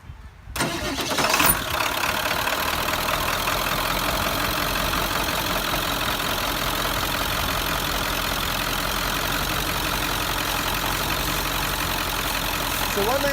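A 1997 Ford F350 with a 7.3L diesel engine cranks and fires up, then settles into a loud, steady clattering idle that carries on unbroken at close range.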